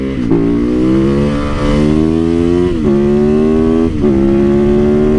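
A motorcycle engine revving loudly and close, climbing in pitch through three throttle pulls with brief dips between, a strong rumbling tone alone without talk.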